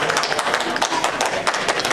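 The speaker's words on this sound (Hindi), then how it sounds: "जोरदार तालियों से हम स्वागत कर रहे हैं।" Audience applause greeting a guest at a community gathering, a steady patter of many hands clapping at moderate level with no voices over it.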